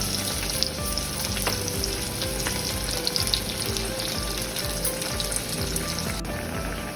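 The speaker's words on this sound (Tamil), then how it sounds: "பச்சை மிளகாய் இதில் போட்டு தாளிக்க போகிறோம்." Large green chilies tempered in hot oil for a coconut milk sodhi kulambu, giving a steady, fairly loud sizzle and crackle throughout with occasional scraping of a utensil.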